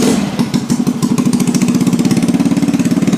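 A GY6 scooter engine fitted with a plug-and-play performance carburetor idles steadily up close, its loud, even putter running alone throughout with a slight unevenness at the start.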